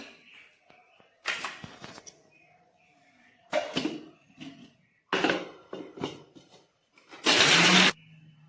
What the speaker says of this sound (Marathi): तर आपण भाजलेला कांदा एक वाटी आपण मिक्सरमधून बारीक करून घेऊया